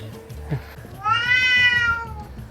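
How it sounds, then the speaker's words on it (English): A kitten's high, drawn-out meow rises after a brief lower sound, outdoors in Corfu, with faint background noise underneath. "there's cats everywhere in there."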